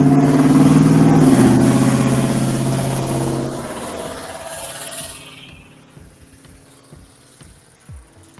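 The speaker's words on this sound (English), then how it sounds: "My local redneck with his extremely loud exhaust on his old 72 Ford pickup that just went by" Extremely loud exhaust of an old 1972 Ford pickup roars past close by, a heavy throaty rumble that slowly fades into the distance and leaves quiet background noise.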